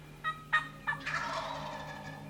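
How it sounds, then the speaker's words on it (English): A wild turkey gobbler gobbles close by, opening with a few sharp clucks before a loud rattling gobble that trails off, with no talk over it. "never overcall when a gobbler is this close"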